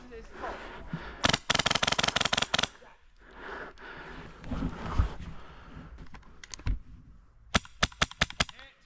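An HPA airsoft gun fires rapid bursts of sharp clicking shots, near and fairly loud, with one long string early on and a few quick volleys at the end, while a person speaks in between.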